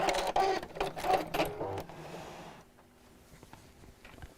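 Sewing machine stitching in reverse while making a fabric gift bag, a short close burst of rapid mechanical whirring that stops after about two seconds, leaving quiet room tone.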